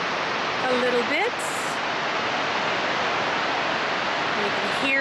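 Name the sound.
roar of Horseshoe Falls waterfall, Niagara River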